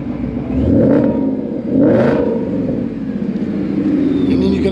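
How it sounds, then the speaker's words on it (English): A 700 hp Ford Mustang engine revved in short bursts with the hood open, two swelling surges of engine roar over a steady running rumble, close and loud. "you can obviously hear it gets a lot louder when you hit the gas"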